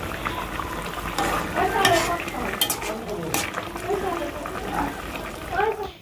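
Eggs fry with plenty of chopped onion in a home kitchen pan, a close, steady sizzle and crackle with occasional utensil clinks, running under a person talking.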